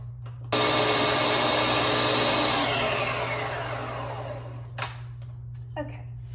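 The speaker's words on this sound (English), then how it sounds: "Okay, so we've got this in the blender. We're going to puree for a minute or until smooth." A blender switches on abruptly and runs loud and steady, pureeing a creamy turkey and wild rice soup, its high whirring roar gradually softening as the mixture smooths, then cutting off, followed by a couple of brief clicks.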